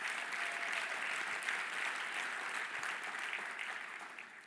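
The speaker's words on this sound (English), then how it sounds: "Give Dan a round of applause." An audience claps steadily for a panelist at a CEO summit, a dense, sustained round of applause from a crowd that fades slightly toward the end, with no talking over it.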